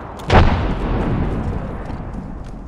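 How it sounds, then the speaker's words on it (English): Frag grenade exploding in the video game Apex Legends, one loud close boom that decays into a rumbling tail over low game background noise. "Tossing a frag."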